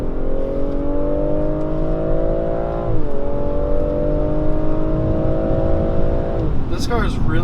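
A 355 hp 2019 BMW X4 M40i accelerating hard on a country road, its engine droning steadily and climbing in pitch, then a brief cluster of loud exhaust pops and crackles near the end.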